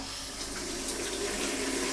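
Tap water pours steadily into a fairly large bowl as potatoes are readied for sauerkraut soup, a continuous close splashing rush with no talk.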